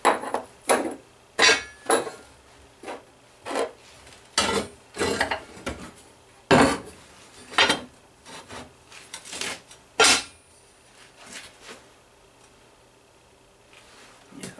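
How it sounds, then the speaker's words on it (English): Metal washers clink and clatter in separate bursts as they are lifted off a stack and handled in a workshop, each sharp metallic knock standing out against quiet. "Let's take a layer of washers off."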